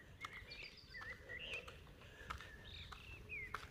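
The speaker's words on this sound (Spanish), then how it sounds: "se escuchan los pajaritos" Small birds chirp outdoors near a quiet village, giving short scattered tweets and trills. The calls are faint and sit over a soft, steady background.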